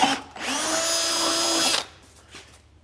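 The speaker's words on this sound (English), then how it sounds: "I can drill it out and put a huck bolt in there" A power drill drilling out a huck bolt on a Peterbilt 359 truck whines loudly at steady speed for about a second and a half, then stops, leaving quiet room noise.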